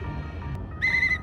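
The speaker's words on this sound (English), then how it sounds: "how do I whistle again?" The player character whistles in The Legend of Zelda: Breath of the Wild, one short bright tonal whistle near the end after quiet game ambience, with no speech.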